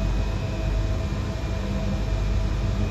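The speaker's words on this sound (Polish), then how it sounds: "A tam jakiś cargo pociąg pojechał." A freight train in the SimRail train simulator game rumbles past as a steady, loud low roar with constant rail noise through the whole stretch, no voices.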